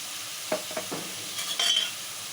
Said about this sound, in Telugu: పచ్చివాసం పోయే వరకు ఆయిల్లో ఫ్రై చేసుకోవాలండి